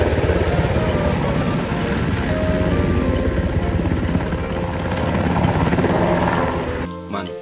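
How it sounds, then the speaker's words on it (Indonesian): A toy army helicopter gives off a steady whirring, buzzing drone with a rapid chopping texture, loud and close, cutting off abruptly near the end. "Helikopter tentara."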